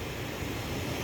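Steady, loud aircraft engine roar at an airport hangar, a continuous broadband drone that fills the whole second with no pauses and no voices.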